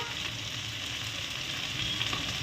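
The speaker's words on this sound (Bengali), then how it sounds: "আমি একটু তেলের উপর ভেজে নেবো" Peanuts and egg frying in oil give off a steady, dense hiss of sizzling, moderately quiet and close, with no voices over it.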